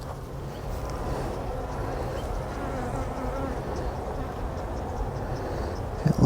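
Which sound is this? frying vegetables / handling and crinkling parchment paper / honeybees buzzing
honeybees buzzing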